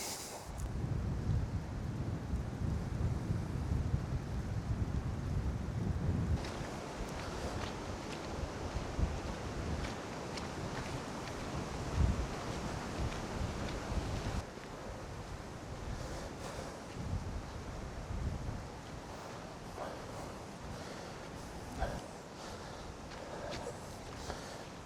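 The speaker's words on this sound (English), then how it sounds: "Ooh, that wind." Gusty wind on an open hill walk in Worcestershire, a loud rumbling roar buffeting the microphone, heaviest at the start and then easing into steadier blustery rushes.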